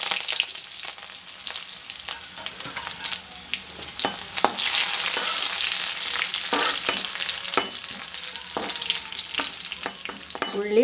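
Chili, onion and curry leaves fry with mustard seeds in hot oil, giving a dense, crackling sizzle broken by frequent sharp pops and spatters. Stirring scrapes and light clinks run through it, close and fairly loud, with no talk.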